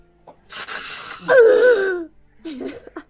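A person gives a sharp, voiced gasp of mock offense, a wheezy intake that rises and wavers for about a second, with a short breathy sound following after a pause; no other talk.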